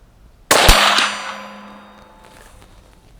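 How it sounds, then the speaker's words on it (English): A single sharp shot from a Marlin 783 .22 Magnum rifle at a target, loud and close, followed by a ringing metallic clang that decays over a couple of seconds. "Let's shoot center again and see if we move the"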